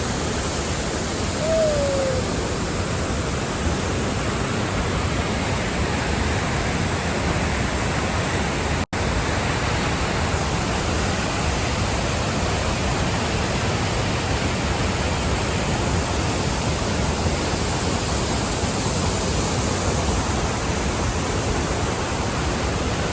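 Morton Waterfalls near Campbell River, BC, roars in a loud, unbroken rush of falling water heard close up, steady and dense from start to finish with no voices over it.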